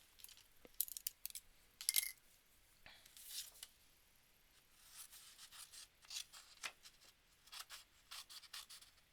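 Scissors cutting paper in a quiet room, with a run of soft snips and crisp clicks coming in uneven bursts close by.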